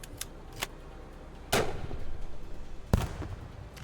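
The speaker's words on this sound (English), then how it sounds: "Grenade launcher." Grenade launcher firing in a shooter video game, heard as two sharp blasts about a second and a half apart, each followed by a lingering rumble over quieter ticking clicks.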